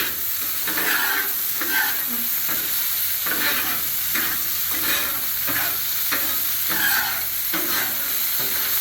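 Teriyaki chicken frying in oil on a Blackstone griddle, a loud constant sizzle with regular scraping strokes of a spatula across the flat top.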